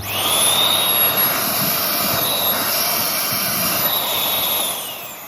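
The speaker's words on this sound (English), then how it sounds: "that seems to be pretty good suction, so that's good. That means the engine's working." A machine with a running engine sucks air through a clear hose, producing a loud, continuous airy roar with a thin high whine that rises and falls slightly, and then fades a little at the end.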